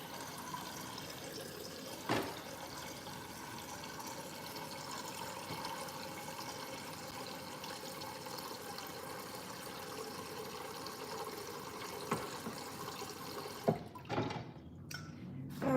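Kitchen tap water runs steadily into a cooking pot for dog-food meal prep, a faint, continuous rushing stream for about fourteen seconds before cutting off with a few drips and clatters.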